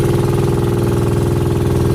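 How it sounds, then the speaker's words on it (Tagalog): A generator engine runs loud and steady nearby, a constant throbbing mechanical drone with a fast, even pulse and no pauses throughout. "at saka yung makina, at saka yung generator na gagamitin namin"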